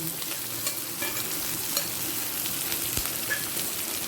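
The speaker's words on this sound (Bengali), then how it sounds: "সর্ষের তেলটা গরম হয়ে গেছে এরপর দিয়ে দিচ্ছি কেটে রাখা পেঁয়াজটা রসুন" Chopped onion and garlic hit hot mustard oil in a pan, giving a steady, close hiss of frying with light stirring scrapes throughout, no voices.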